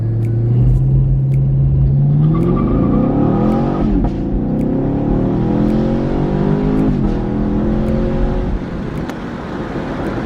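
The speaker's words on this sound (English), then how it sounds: "Now watch how it climbs with the launch control, and watch how it spins." A 2019 Chevrolet Camaro SS launches using launch control, its V8 holding a steady loud idle-like drone before revving hard and climbing in pitch while the wheels spin, followed by a gear change and continued acceleration; close and loud, with no talking.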